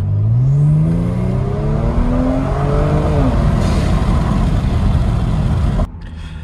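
A Kia Stinger GT 3.3 twin-turbo in sport mode with Injen intakes and a catback exhaust revs up loudly and close, the engine note climbing in pitch over several seconds and holding a rough, droning roar before cutting off abruptly.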